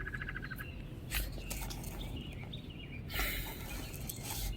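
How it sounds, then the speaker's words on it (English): Faint bird chirps come and go over a steady outdoor background hum, with a few brief louder bursts of noise. "You hear them birds?"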